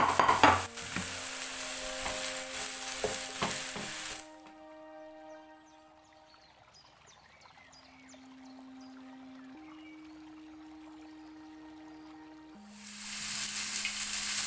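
Mushrooms and onions hit hot oil in a pan and are stirred, giving a loud, close sizzle at the start. A quieter stretch with faint tones follows before the frying hiss swells again near the end.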